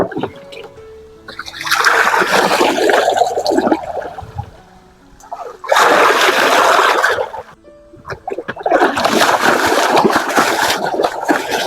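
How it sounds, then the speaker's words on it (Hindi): Buffaloes being bathed after overnight rain, water splashing and sloshing loudly in three long bursts separated by short pauses. "थोड़ा मैं भैंसों को भी नहला देता हूँ आज।"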